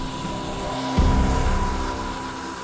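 Lockheed Martin P-3 Orion turboprop aircraft droning steadily with a sustained engine tone, growing louder and rougher partway through as the propeller noise swells nearby.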